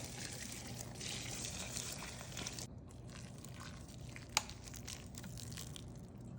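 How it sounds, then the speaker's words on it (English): Palm nut pulp for Ghanaian palm nut soup strained by hand in a kitchen, a steady wet squishing and crunching rustle that drops quieter partway through, with one sharp tap near the end. "So the pulp, we always want to get the most of our ingredients, so she's gonna strain it once more."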